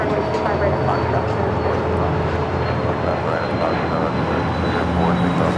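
Jet airliners at LAX airport give a steady, loud engine roar that fills the whole stretch without a break, with faint voices underneath.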